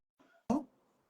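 A single short, sharp cough close to the microphone, preceded by a faint breathy sound, with quiet room tone after.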